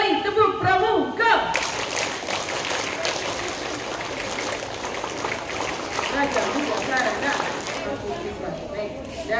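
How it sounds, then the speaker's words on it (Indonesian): Scouts from a junior high school troop perform the scout clap twice at an installation ceremony, a dense burst of rhythmic group clapping and shouting that fills the space loudly after a brief opening moment. "Dua kali tepuk pramuka."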